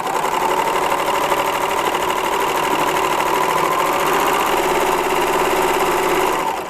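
A serger sewing machine runs continuously, feeding fabric while trimming its raw edge, making a loud, steady, rapid mechanical whir for several seconds that cuts off at the end.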